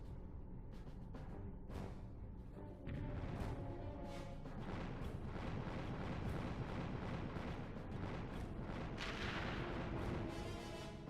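Missile explosions in the Ratchet & Clank video game: a quick run of sharp booms at first, then a dense, continuous roar of blasts and crashing debris that stays loud throughout.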